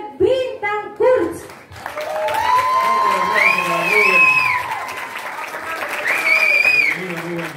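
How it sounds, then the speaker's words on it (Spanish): Audience applause and clapping for a singer being called to the stage at a church talent show, starting after brief talk and swelling into sustained clapping mixed with cheering voices. "llamamos con un fuerte aplauso a Rubén Bintancourt"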